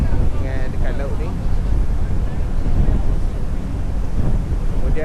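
A slow boat that is not a speedboat cruises on the sea near Sydney, with steady wind buffeting the microphone and waves washing around the hull in a constant rumble, and a voice speaking faintly now and then.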